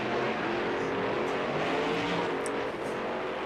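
A monster truck engine roars during a racing event as the truck spins out in a turn, a steady loud rumbling drone with a touch of revving, heard from some distance over crowd ambience.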